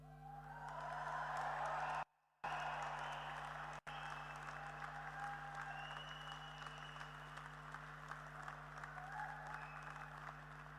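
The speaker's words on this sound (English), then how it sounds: "Lots of cheers, whooping, wailing and clapping." A graduation audience at Lincoln College University Centre practises cheering, whooping and clapping: a faint, distant, continuous wash of clapping with scattered whoops over a steady hum.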